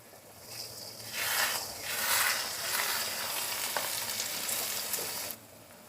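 Egg bhurji is stirred in a pan with coriander powder, salt, pepper and onion, giving a soft sizzle that swells in bursts with scraping strokes, then drops away near the end.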